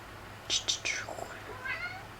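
A pet cat meows a few times indoors, sharp close cries followed by a softer drawn-out call over faint background hum.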